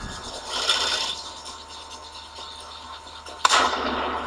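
A tank cannon in the World of Tanks video game fires with a loud, sharp boom near the end, after a stretch of rumbling, scraping battle noise.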